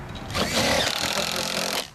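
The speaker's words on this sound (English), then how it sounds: "Now I like to pre-drill the holes so there's no chance of splitting the decking" A power drill pre-drilling holes in decking for a Titan post anchor install, one short, close burst of high whirring and grinding into wood lasting about a second and a half.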